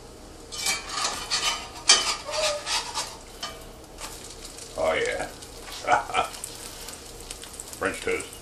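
French toast frying in a pan, with a soft sizzle under clinks and scrapes of utensils against the pan and a voice talking over it.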